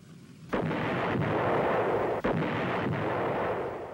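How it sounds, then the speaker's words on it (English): Heavy artillery fire at the siege of Khe Sanh booms out in a loud blast, followed by a second heavy blast a couple of seconds later, over a sustained roaring rumble of bombardment. "the siege settled down to a deadly daily duel fought by artillery and aircraft"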